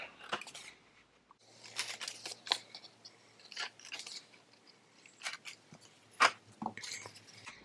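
Small snips of scissors cut little corners from paper, quiet close crisp clicks coming in short irregular bursts with pauses between, no talking.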